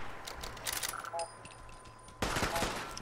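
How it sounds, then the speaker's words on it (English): Gunfire in the video game Fallout 4, with several bursts of rapid shots, a quieter stretch with a faint voice, then a loud renewed volley near the end. "Aha, there's so many bullets."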